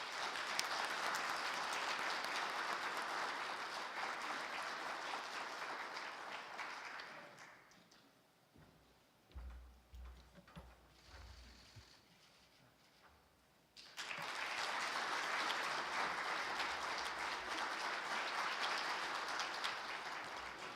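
Audience applause at a breakfast forum welcoming presidential candidate Yoon Suk-yeol, a long burst of steady clapping that dies down into low rustling and handling noise, then swells again into a second sustained round.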